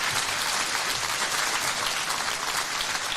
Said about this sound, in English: Alistair Gillis there with a very worthwhile round of applause.